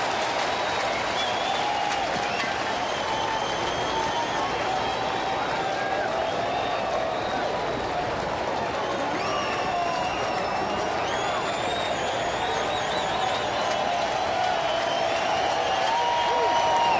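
A stadium crowd of nearly 23,000 at a night baseball game between the Cubs and Reds claps and cheers in a dense, sustained roar while standing for the final out, with whistles and shouts rising through it and a voice speaking over it.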